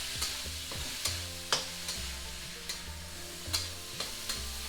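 Potato bonda filling being stirred in a large wok, a spoon scraping and clacking against the metal in irregular strokes every half second or so over a steady low sizzle, close and fairly quiet, with no voices.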